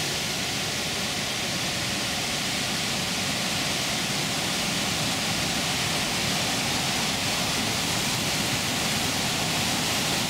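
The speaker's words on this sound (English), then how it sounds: "This is the Weir Dam on the Little River at Walland" Water pours steadily over a weir dam on the Little River at Walland, Tennessee, a dense continuous roar of rushing flow with no breaks, loud and broad like a waterfall.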